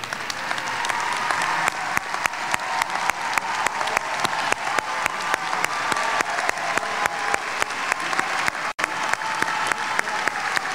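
Audience applause at a Green River College commencement ceremony, a dense sustained round of clapping from a large crowd filling a hall, loud and steady throughout with no voices over it.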